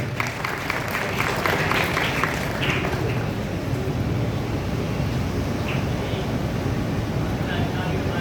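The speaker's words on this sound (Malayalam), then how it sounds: "അവർക്ക് എല്ലാവരും ഒരു നിറഞ്ഞ കയ്യടി കൊടുക്കണമെന്ന് പറയും" An audience at an agricultural seminar during a newspaper golden jubilee event gives a full round of applause, a dense, continuous clatter of many hands that holds steady for several seconds.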